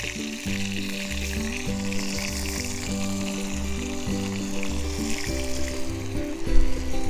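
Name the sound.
onion and meat sautéing in a pan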